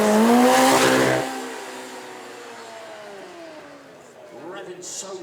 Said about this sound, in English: Revving so smoothly and cleanly, it howls rather than roars.